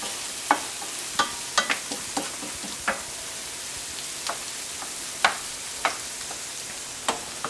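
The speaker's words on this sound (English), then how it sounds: "Saute those up." Pork frying in a pan for pork schnitzel pasta: a steady soft sizzle with sharp scattered pops and crackles, close and moderately quiet, with no voices.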